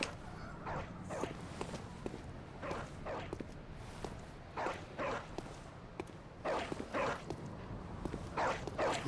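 A dog in the game Bloodborne barks and yips in repeated clusters of sharp, mid-distance barks through a dark, rumbling game ambience, growing louder and more frequent toward the end.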